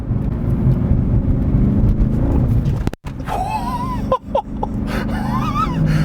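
A Mercedes CLK63 Black Series AMG cornering hard at about 40 mph, engine droning loudly with a brief drop in the middle, then tyres squealing in wavering bursts as the tail steps out.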